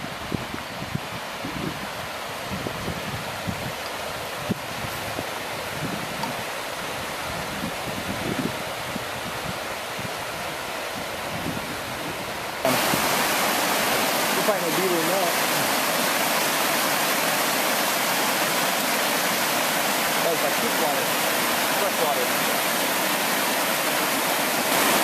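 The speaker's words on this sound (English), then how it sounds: "we stopped to take a break at this little spot here, down by this raging creek" A raging creek rushes in a steady broadband roar beside the Steese Highway in Alaska, softer at first and then suddenly louder and closer about halfway through, with no talk.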